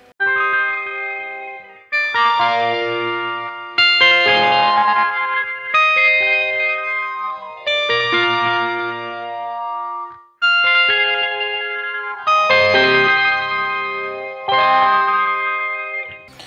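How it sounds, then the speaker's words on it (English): Electric guitar through a spacey patch with light crunch and delay, playing chords in the opening of a song: a bright, arpeggiated figure repeats in swelling phrases with echoing, chorused tails, loud and with no voices. "It's kind of coming away from what might just be a bit of a light crunch to crunch and some delay."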